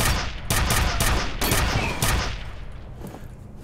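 Gunfire in the shooter game F.E.A.R., a burst of several loud, sharp shots in quick succession during the first two seconds, then quieter trailing reports fading out with no talking.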